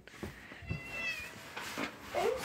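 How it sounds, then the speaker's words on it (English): A cat meows under a blanket, giving soft, muffled, somewhat faint cries over a steady hiss of background noise, with a higher whiny call near the end. "Now it's going to go under the blanket."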